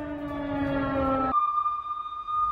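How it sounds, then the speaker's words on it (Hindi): Air raid sirens sound in Iran, a steady droning wail with layered tones that abruptly shifts to a single high, sustained pitch, heard from a distance with no talking. "ये देखिए यहां पर किस तरह से एयर सायरन गूंज रहे हैं"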